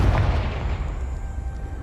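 A Confringo explosion spell in Hogwarts Legacy lands as a heavy, deep boom that rolls into a long, rumbling low-pitched decay, loud and close with no voices over it.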